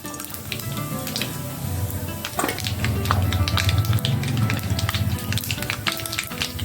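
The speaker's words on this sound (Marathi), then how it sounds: "जीर मोहरी छान तडतडली" Cumin and mustard seeds splutter in hot oil in a kadhai, giving a continuous sizzle dotted with sharp crackling pops throughout.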